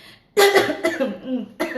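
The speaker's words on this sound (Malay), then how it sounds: "Terbatuk pula ya." A person coughs harshly a few times up close, a short burst of hacking followed by another cough.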